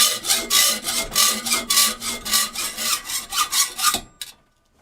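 A rack part is sawn to length with a hand saw, giving about a dozen steady, rhythmic rasping back-and-forth strokes, close and clear, ending abruptly in quiet.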